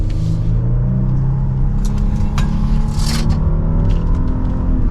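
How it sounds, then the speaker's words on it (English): A 2024 Genesis GV80 AWD Prestige Signature SUV accelerates, heard from inside the cabin as a steady, loud engine and road rumble that holds for the whole stretch, with a few faint scrapes on top. "we are going to do one last acceleration for today's review"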